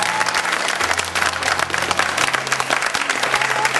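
A crowd claps steadily to welcome a new village head chosen by lottery in Chakpayati village, Amroha, Uttar Pradesh, with a dense, continuous applause throughout.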